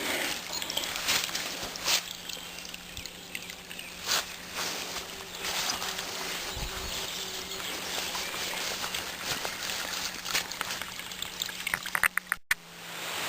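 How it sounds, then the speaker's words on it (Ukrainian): A small mountain stream trickles out from beneath a saddle in a ridge valley with a soft continuous babble, fairly faint and close, joined by a few footsteps and knocks near the end. "А ось ще один струмочок з-під сідловини круглого єверника."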